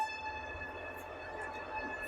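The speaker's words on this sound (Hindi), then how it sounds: "हॉर्न बज गया बीच में" A horn sounds outside, faint and distant, with a few thin sustained tones coming through steady background noise.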